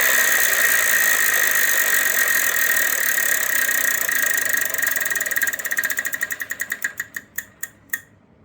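A game-show prize wheel on Wheel of Fortune spins with a fast rattling stream of peg clicks that gradually slow into widely spaced ticks before stopping, close and clear.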